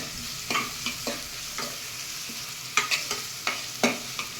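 Onions fry in a pan for masoor dal tadka, a quiet sizzle under about ten spatula scrapes and taps that come irregularly and cluster near the end, with no talking.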